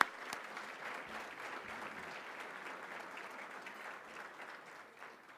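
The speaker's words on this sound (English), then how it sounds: "Let's give them a big round of applause." Audience applause at a city awards ceremony, steady and fairly distant, a sustained wash of many hands clapping that holds evenly for several seconds before tapering slightly.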